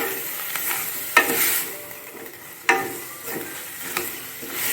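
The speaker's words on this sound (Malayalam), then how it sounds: "ആ ഉരുളക്കിഴങ্ങ് ഇട്ട് കഴിഞ്ഞിട്ട് നന്നായി ഒന്ന് ഒരു വറവ് അതിന് കൂടെ കിട്ടാൻ പാകത്തിന് ഒന്ന് ഇളക്കി കൊടുക്കണം" Potatoes are stirred and fried in a pan while cooking a curry, a close sizzle broken by a few sharp scrapes and knocks of the spoon against the pan.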